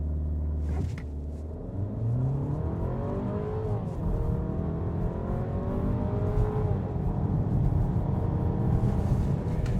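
A 2026 Volkswagen Tiguan turbo plug-in hybrid SUV accelerates hard from a standstill up a slight incline, engine rising steadily through gear changes, droning loudly from inside the cabin with road rumble beneath for about ten seconds.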